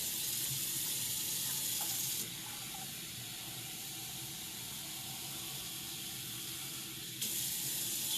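Cool water runs from a kitchen tap into a container of vegetables, a steady bright hiss that softens while the vessel fills, then returns to a louder rush near the end, with no talking.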